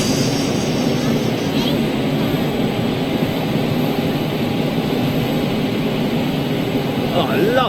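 A cargo-only freighter jet at Schiphol airport gives a steady, loud engine roar that holds evenly throughout, with people talking over it.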